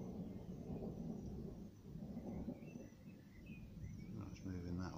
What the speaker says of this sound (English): So that's the angry centre of the storm there.